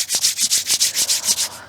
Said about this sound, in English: rub palms together.